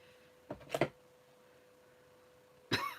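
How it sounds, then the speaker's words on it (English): Two short bursts of coughing and spluttering, close and fairly loud, separated by a quiet pause with a faint steady hum. "you come on to hear me cough and splutter"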